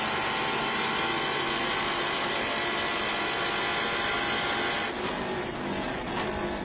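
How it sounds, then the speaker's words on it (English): Adrian Lostowski's Fast Auto race car, sponsored by CMI, Compass Manufacturing, is heard at Watkins Glen. The engine screams loudly and steadily from on board, then eases slightly near the end. "Lostowski's car just going through its paces"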